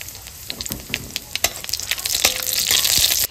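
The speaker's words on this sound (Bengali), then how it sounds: "এবার আমি তেল দিয়ে দেবো, ফোড়নে দেবো শুকনো লঙ্কা আর কালো জিরে" Dry red chillies and nigella seeds tempering in hot oil: a crackling sizzle dotted with quick pops and spatters, building louder over a few seconds, close by with no talking.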